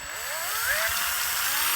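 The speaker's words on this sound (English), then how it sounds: "spin the drill and get most stuff off there" A drill spins up fast to fling wash off a white-painted miniature from the board game Scythe, giving a close, steady high-pitched whir with a short rising whine at the start.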